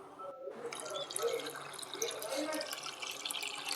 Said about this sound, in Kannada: ಅವನ್ನ ನೀರು ಹಾಕಿ ಸ್ವಚ್ಛಗೆ ತೊಳ್ಕೊಬೇಕು.